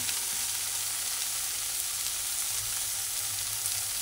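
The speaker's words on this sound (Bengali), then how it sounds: "কাঁকরোল দিয়ে দিলাম, ভালোভাবে উপরে নাড়াচাড়া করছি" Pointed gourd (kakrol) sizzles steadily in a hot pan while being stirred, a loud, even, continuous frying hiss with no voices.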